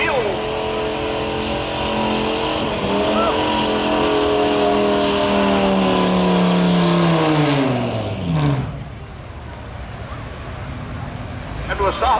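A 1999 Ford F250 pickup truck roars at a summer truck pull in Caldwell, Ohio, its engine holding a loud, strained drone that climbs in pitch before dropping off abruptly near the end as the pull stops, with an announcer talking over it.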